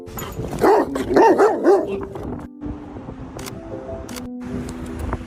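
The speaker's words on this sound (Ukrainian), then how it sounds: "А це лабрадор? Так. Ага. Дивіться, він тільки гавкає." A Labrador dog barks in a quick cluster of loud, close yips and barks in the first couple of seconds, then goes quiet while faint household noise and small clicks continue.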